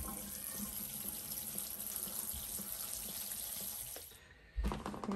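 A faucet runs steadily to rinse ground meat, a continuous close hiss of water that cuts off briefly near the end before a splashy resurgence, with no voices.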